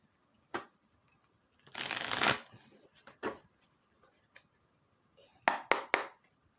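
A deck of tarot cards is handled in a quiet room: a single tap, then a long riffling shuffle, a few softer taps, and finally three quick sharp card snaps close together.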